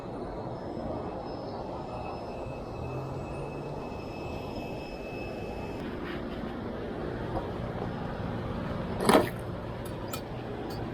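An airplane engine drones in a steady, moderately distant hum that holds throughout, with a short sharp clatter near the end.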